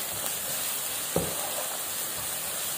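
Turmeric and chili powder being stirred into a frying masala for pepper chicken, giving a steady bright sizzle with a soft stirring scrape midway, close and continuous with no talking.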